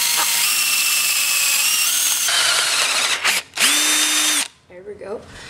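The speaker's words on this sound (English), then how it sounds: "I'm gonna drill on an angle like this" A power drill drives a screw at an angle into a scooter deck, a loud whining spin that stops and restarts in short bursts before cutting out, with brief mechanical clicks at the end.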